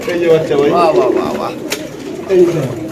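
Pigeons kept for sale at a market stall coo in soft, throaty bursts, close by and fairly loud, mixed under steady overlapping talk from people nearby.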